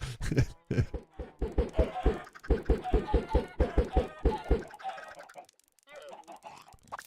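Chickens cluck in a rhythmic run of short, evenly spaced calls inside a farming video game, loud and close for about four seconds before trailing into quieter murmurs.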